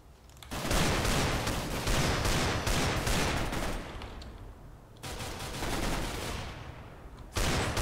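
Rapid automatic gunfire rattles in long, loud bursts with brief gaps between them in a Minecraft version of Counter Strike.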